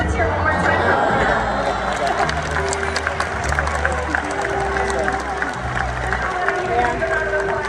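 An audience at an aquarium dolphin show claps and cheers, a busy wash of applause and crowd hubbub under an announcer's amplified talking.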